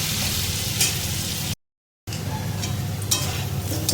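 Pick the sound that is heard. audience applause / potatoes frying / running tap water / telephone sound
potatoes frying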